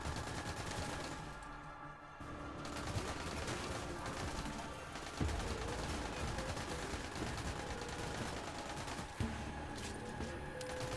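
Rapid gunfire at a firing range in a Destiny shooter game: steady, dense volleys of shots running nearly nonstop, with a few louder single cracks standing out, close and with no talking.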